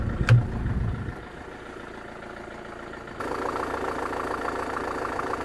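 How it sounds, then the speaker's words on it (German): A Mercedes-Benz Vito Vaneo van engine idles steadily at close range after a brief thump, its low rumble settling into an even drone that grows slightly louder partway through. "Motor läuft ganz normale, keine Geräusche."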